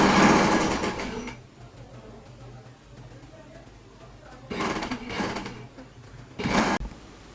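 A sewing machine stitching lace onto buckram for a neck design, running in three bursts: a long whirring run, a second rattling run after a quiet pause, and a short final burst.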